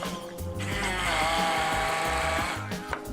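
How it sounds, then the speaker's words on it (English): A handheld blender whirs through mint, parsley and coriander, a steady high motor whine that rises in pitch as the herbs break down, lasting a few seconds up close. "Let me get a handheld whirrer"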